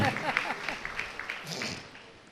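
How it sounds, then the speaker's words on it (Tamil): A church congregation claps for India's cricket win during a sermon, giving scattered, fairly faint individual claps that gradually thin out. "கைத்தட்டுங்க, பரவாயில்ல, இந்தியாவுக்கு தானே கைத்தட்டுறீங்க"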